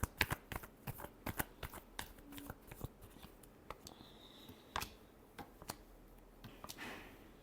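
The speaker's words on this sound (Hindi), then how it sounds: "Last shuffle." Tarot cards being shuffled by hand up close, a quick series of soft riffling snaps and flicks in irregular bursts, fairly faint, with no talking over them.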